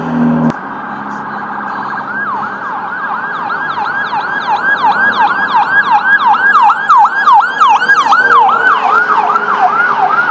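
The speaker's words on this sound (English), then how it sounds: "With the ambulance going by" An ambulance siren wails in steady repeating up-and-down sweeps, loud and close, growing slightly stronger as it passes with road noise underneath.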